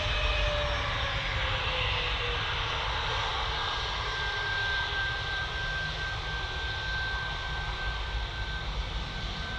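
A KLM airliner takes off at Manchester Airport, its engines roaring as a broad, steady wash of sound at moderate distance, holding for the whole stretch with no talking.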